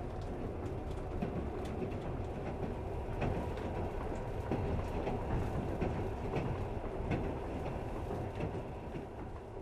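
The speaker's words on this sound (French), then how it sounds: "la fumée âcre de la locomotive qui s'époumonne" Russian train crossing open plains behind a smoke-belching locomotive, a steady loud rumble of wheels on rails with faint rhythmic clatter running throughout.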